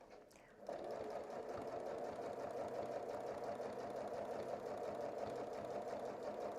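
A sewing machine fitted with a walking foot runs steadily while quilting, a fast even mechanical whir starting after a short pause and holding close and constant.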